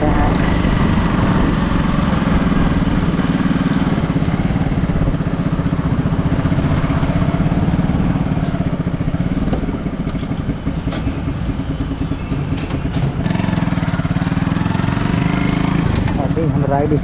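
A superbike motorcycle engine runs loud and close throughout, a steady buzzing rumble at the start of a ride, with the pitch shifting slightly near the end.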